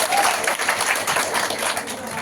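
An audience in a hall claps loudly in a brief, sustained round of applause, with some speech mixed in.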